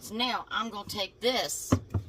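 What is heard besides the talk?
No everyday noises stand out.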